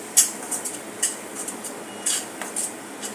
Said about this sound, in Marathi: आता हे आपण चांगले परतून देऊया